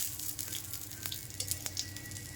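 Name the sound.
bitter gourd leaf fritters frying in oil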